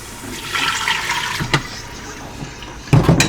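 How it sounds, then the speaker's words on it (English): Two cups of plain water poured into an Instant Pot, a steady splashing pour with a couple of sharper clunks near the end, close and moderately loud with no talking. "Right now I'm going to add 2 cups of water."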